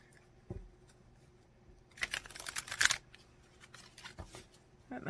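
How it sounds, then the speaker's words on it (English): A deck of cards being shuffled by hand, a burst of quick riffling flutters mid-clip followed by softer handling clicks and taps, close and alone. "I'm going to set these up here so I have some space to shuffle."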